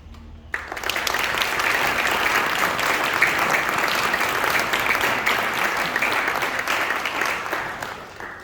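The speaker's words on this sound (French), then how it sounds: "Je voudrais qu'on prenne un petit moment pour applaudir tous les parents qui sont ici dans cette salle." A hall full of people bursts into applause for the parents present, starting abruptly and holding a thick, even wash of clapping for several seconds before tapering slightly.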